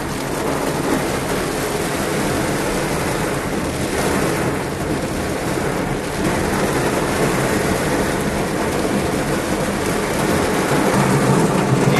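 Steady heavy rain pours over a Jim Corbett resort parking area where safari Gypsy jeeps stand, a dense continuous hiss close by with low thunder rumbling underneath throughout, no voices.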